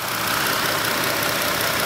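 The 3.6-litre V6 Pentastar engine of a 2019 Chrysler Pacifica Limited minivan idles steadily and fairly loudly up close, a constant broadband hum with no voices.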